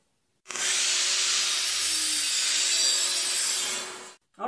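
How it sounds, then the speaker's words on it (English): A miter saw slices through a wooden board marked at two feet, one loud continuous cut of roughly four seconds that starts abruptly, holds a steady high whine, then stops, followed by a brief tail. "the first thing we're going to do is give this board a cut on the miter saw"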